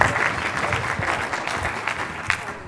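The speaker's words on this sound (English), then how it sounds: "we can get a round of applause for Sanem" An audience at a digital health summit gives steady, moderately loud applause, a dense field of clapping lasting a couple of seconds with faint crowd murmur underneath.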